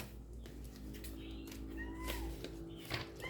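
A cat meows several times in a room, its rising and falling calls cutting through a steady low hum of background noise, fairly close and clear with no talk over them.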